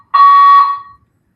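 A fire alarm sounds one loud, steady electronic tone lasting just under a second and then cuts off, with no one talking over it.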